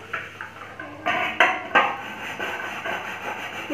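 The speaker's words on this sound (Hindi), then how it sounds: "और कपड़े धोने वाला साबुन से बर्तन धोने लग गया है" Dishes are washed by hand with laundry soap in a home kitchen, with steady scrubbing and rubbing, soft clinks and several louder knocks of utensils and pots, close by and without talk.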